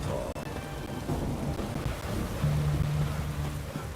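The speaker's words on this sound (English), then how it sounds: "What a downpour." Heavy downpour with thunder in The Witcher 3, a dense roar of rain on surfaces with a low rumbling undertone, continuous and fairly loud throughout.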